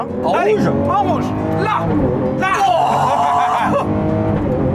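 Lamborghini Aventador SV engine revving: a loud, close V12 note rising and falling in several surges under excited speech from people inside the car.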